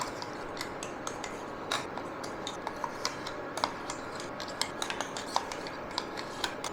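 Grated coconut being stirred in a kadai, a steady run of small scraping clicks and light metallic taps from the spatula against the pan, close and fairly quiet.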